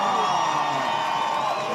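A beach crowd at the VIVO Rio Pro surf contest finals cheers loudly, a sustained dense roar with whoops, heard from a distance and filling the whole moment.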